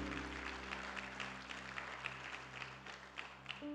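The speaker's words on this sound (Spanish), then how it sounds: "Dale más fuerte ese aplauso al Señor." Church congregation applauding during a Spanish-language sermon, a steady wash of clapping from many hands that continues evenly throughout under a faint sustained musical hum.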